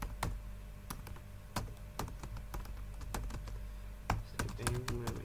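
A computer keyboard clacks as a git branch command is typed, with about a dozen distinct keystrokes at an uneven pace, close and fairly quiet, ending in a quicker cluster.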